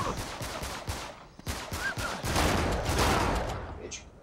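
Shotgun blasts in Uncharted 3 crack out as several sharp bursts in a fast, ragged exchange, close and loud, mixed with game action noise.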